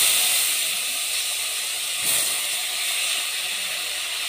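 Washed rice tipped into a pan of browned vermicelli gives a steady, loud sizzling hiss that holds throughout, with a brief surge near the middle and no talk.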